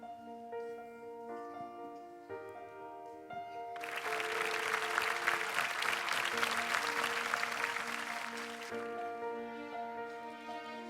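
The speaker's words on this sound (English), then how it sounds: "Let's applaud them and wish them all the very best for the journey ahead." A crowd at an IB primary-years graduation ceremony breaks into a burst of clapping for about five seconds over soft, sustained piano music, which continues before and after the applause.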